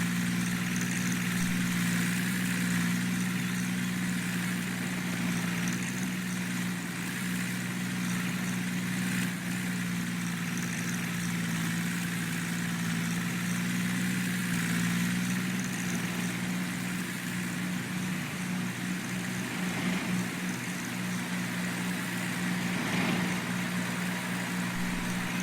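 A Fendt tractor idles in Farming Simulator 19, a steady low engine drone holding constant for the whole stretch without speech.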